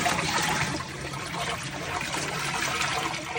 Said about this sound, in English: I'm going to go on ahead and drain this water off